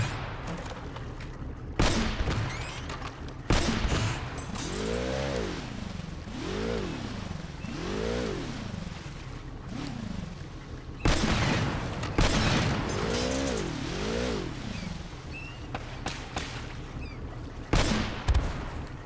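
Enemy gunfire in the video game Uncharted: repeated bursts of shots and booms over a steady game soundscape, with rising engine-like whines recurring through the action.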